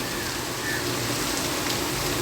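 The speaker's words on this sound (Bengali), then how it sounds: "এখনই আবার বৃষ্টি ঝুমঝুম করে পড়ে।" Heavy monsoon rain drumming on a tin roof, a thick, unbroken wash of patter that holds at a constant loud level.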